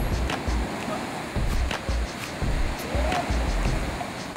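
Ocean waves break while surfing: repeated close surges of rushing whitewater over a constant wash of sea and wind noise.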